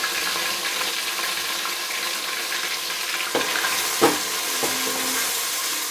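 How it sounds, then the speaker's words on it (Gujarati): Ginger paste frying in hot oil for keema pulao gives a loud, steady sizzle throughout, broken by a few sharp spoon or pan clinks near the end, with no talk. "તેલ આપણું ગરમ થઈ ગયું છે તેમાં આપણે એડ કરીશું બેથી ત્રણ મોટી ચમચી આદુની પેસ્ટ"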